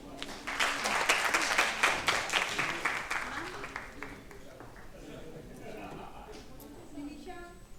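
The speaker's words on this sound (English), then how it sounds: "So big round of applause." Applause for workshop volunteers at a closing session, a burst of clapping from a modest audience that peaks early and fades out over several seconds, with talk resuming beneath it.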